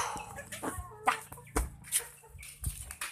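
Backyard chickens cluck in short, irregular bursts, close and moderately loud, with scattered rustling and thuds between the calls during a feeding.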